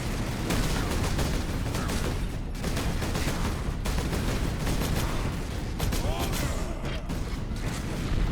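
Gunfire in Space Marine, played on Xbox 360 or PS3, pounds in loud, rapid volleys mixed with impacts and mechanical clatter. The firing runs almost without pause, with brief gaps between bursts.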